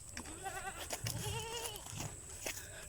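A goat bleats several times in quick, wavering calls, close by, with a steady high whine and scattered rustles in the background.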